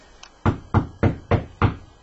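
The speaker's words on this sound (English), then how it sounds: "Hey, someone's at the door." Five sharp knocks on a door, evenly spaced and loud, close by with nothing else heard.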